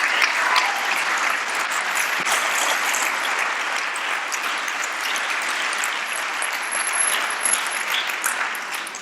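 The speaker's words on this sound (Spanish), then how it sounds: "Dale un fuerte aplauso al Señor." A church congregation gives sustained, loud applause that fills the room. The clapping stays dense and even throughout, with a slight swell near the end.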